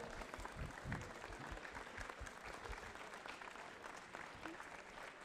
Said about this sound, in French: Merci Véronique, on peut l'applaudir.